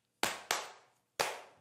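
Three crisp, loud hand claps from a rap song recording, each a sharp isolated snap with a short decay, the first two close together and the third after a longer gap.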